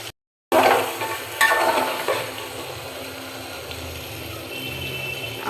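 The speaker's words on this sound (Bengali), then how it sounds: "আমার কষানো প্রায় শেষ হয়ে আসছে।" Spices and whole spices frying in a covered pan, a steady sizzle and hiss after a short silence, with a sharp stir or clatter early and continuous frying noise thereafter.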